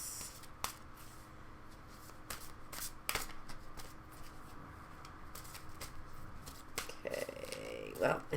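A tarot card deck being cut and shuffled, with a series of short, crisp riffling and slapping bursts scattered across the stretch, close and fairly quiet against a low background hum.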